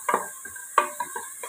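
A few quick scrapes and taps of a spoon stirring in a pan while sautéing with salt, two short stirring strokes over a faint background hiss.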